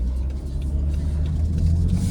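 BMW 440i Gran Coupe xDrive with muffler and resonator delete, a low steady exhaust drone heard from inside the car while cruising, continuous and moderately loud with no talk.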